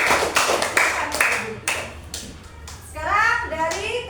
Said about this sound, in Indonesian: Tepuk tangan dulu untuk Salman